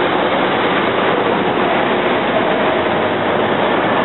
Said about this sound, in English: Here we got the R7 local to Temple University coming in on track 2.